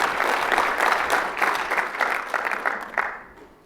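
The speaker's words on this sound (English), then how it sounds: "Give him a round of applause." A conference audience applauds as a speaker on Bluetooth keyboards is introduced, dense clapping that swells and holds before thinning out and fading toward the end.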